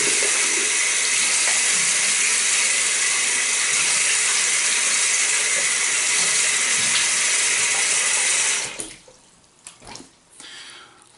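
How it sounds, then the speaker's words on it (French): Tap water runs steadily and loudly into a sink for about eight seconds while a face is rinsed after a traditional shave. It then cuts off, leaving a few faint splashes and drips. "Je me rince la figure, puis je vous reviens"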